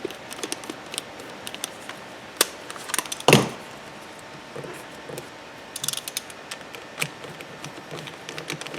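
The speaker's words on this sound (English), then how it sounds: "Tighten them down, but don't overdo it because we're just screwing into plastic." Small screws are driven down into a plastic part on a DeWalt lawn mower component, giving scattered clicks and ratcheting ticks with one louder clack midway, close and quiet with no talking.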